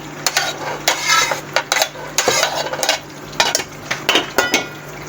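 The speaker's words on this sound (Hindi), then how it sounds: "अब इसके अंदर बिस्मिल्लाह भिंडियाँ डालूँगी" Okra dropped into a pot of hot ghee for bhindi gosht, giving repeated clattering pot and utensil knocks with stirring scrapes, close and fairly loud, with no talk.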